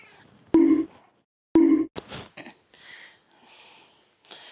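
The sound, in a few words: cat meowing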